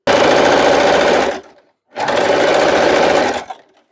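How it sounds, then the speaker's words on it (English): A sewing machine runs a straight-stitch hem on a doll skirt in two loud, steady bursts of whirring with a short pause between, no talking. "I'm just going to fold my hem over again and sew down with a straight stitch."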